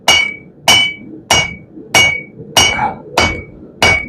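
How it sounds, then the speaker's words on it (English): A flat-faced hammer hand-forges steel for a herb chopper blade, landing seven evenly spaced, ringing blows about every 0.6 seconds, loud and close with no voices. "When you're using the flat side of the hammer"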